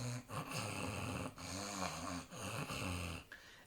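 A Dutch pronunciation teacher imitates snoring to demonstrate the guttural g sound, producing repeated rough, rattling throat snores in irregular bursts separated by short breaks, close and fairly quiet.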